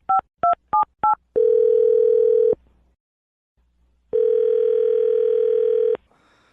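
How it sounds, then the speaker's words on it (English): A telephone keypad dials a number in four quick tone beeps, followed by two long steady ringback tones separated by silence. "I'm going to dial her phone number right now"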